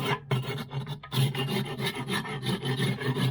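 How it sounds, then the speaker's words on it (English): A scraper rasps rhythmically across a Big Green Egg place setter, clearing off residue from the last cook in short, close, repeated strokes. "Just scrape the last cook off the place setter here"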